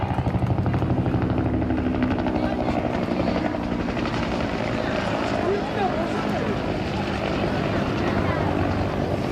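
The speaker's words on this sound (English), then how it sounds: "Neil Airy and the Huey" A Huey helicopter flies at the Blackpool airshow, its rotor thudding in a steady chop over a broad engine whine while a commentator speaks over a public address throughout.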